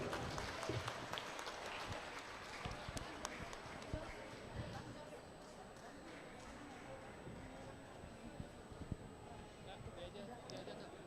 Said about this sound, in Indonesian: Kita berikan tepuk tangan untuk Dewan Juri.